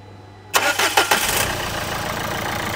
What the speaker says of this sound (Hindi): एक बार स्टार्ट करके दिखा देते हैं